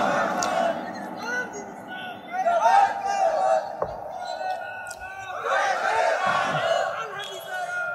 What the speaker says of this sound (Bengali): জোরে তাকবীর দেবেন